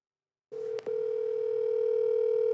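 A telephone ringback tone sounds as an outgoing call waits to be answered: a steady electronic tone that starts after a moment of silence, briefly breaks, then holds continuously, clear and fairly quiet, with no voices.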